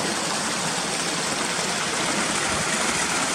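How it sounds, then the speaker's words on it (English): Mountain stream running near Cautley Spout waterfall below slate-topped fells, a steady close rushing and burbling of water with no pauses and no voices. "I love the sound of running water"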